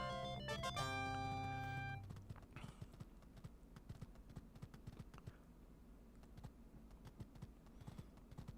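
Horse hooves clip-clop in a Sega Genesis video game, a steady run of quick, evenly spaced hoof taps after a bright burst of synthesized chime tones at the start, the hoofbeats continuing over busy game music.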